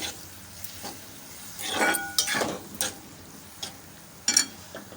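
Soaked aval (flattened rice) stirred into a spiced tempering in a pan, with a few scattered scrapes and clinks of a utensil against the pan amid quiet pauses.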